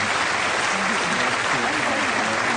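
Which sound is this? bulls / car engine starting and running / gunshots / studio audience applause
studio audience applause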